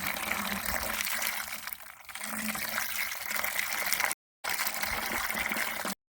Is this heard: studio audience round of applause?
no